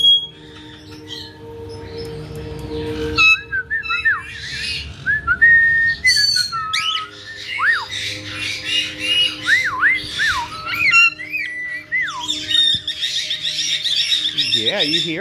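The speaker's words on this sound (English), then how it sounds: "Are you listening to the cockatiels?" Cockatiels whistle and chirp steadily, with rising and falling notes tumbling over one another, fairly near, over a faint low background hum.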